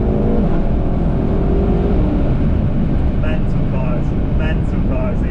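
A 750 bhp BMW F10 M5 with around 900 Nm of torque pulls hard in second gear with traction control fully off, its engine roaring loud and close in a sustained, strained drone that barely lets up.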